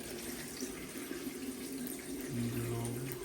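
Tap water runs into an electric egg boiler, a steady splashing stream with a brief rising tone as the vessel fills, close and fairly quiet.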